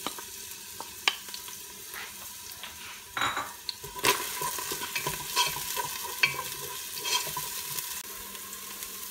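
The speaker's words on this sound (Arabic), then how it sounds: "اولا سخنت زيت العود، غادي ندير هاد البصله والثومه يتشحروا مزيان" Onion and garlic fry in hot olive oil, making a steady low sizzle close by, with occasional spoon scrapes and stirring clinks against the pan.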